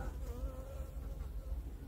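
A steady, dense insect drone from a honeybee colony buzzing together during an oxalic acid treatment, continuous and fairly close.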